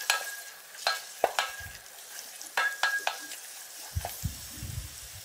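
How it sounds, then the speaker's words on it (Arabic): Sliced large onion and two big garlic cloves sautéing in a pan, with scattered stirring clatter and soft frying noise, plus low thumps near the end, no talking. "وهنحط عليها بصلة متقطعة، بصلة كبيرة متقطعة شرايح، وكمان فصين توم كبار متقطعين شرايح، وهنشوحهم شوية على النار"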